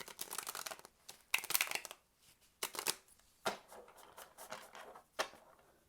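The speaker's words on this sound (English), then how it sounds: "let's just try a couple riffles. We'll try a couple side shuffles" A large 90-card oracle deck being riffle shuffled by hand: several crisp bursts of fluttering card clatter separated by brief pauses, close and fairly quiet, with no talk.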